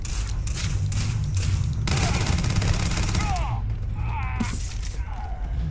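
Gunfire in the video game Starfield: rapid bursts of shots and thuds in a busy firefight, loud and close, with in-game voices and effects mixed among the blasts.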